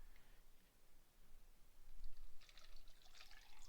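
Bottled water pours into a cup of ice with a soft trickle and light splashing, rising toward the end as the pour quickens, with a few faint clinks near the finish.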